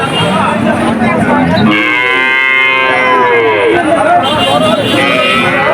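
Calves moo loudly and close at the Betaga cattle market in Bagerhat, one long drawn-out bellow standing out over a constant babble of voices and market noise.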